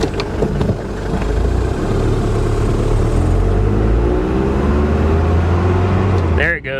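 A 1983 Mercedes 240D diesel engine runs steadily at close range with a constant low rumble, after an old air filter has been removed, and the idle tone wavers slightly toward the end.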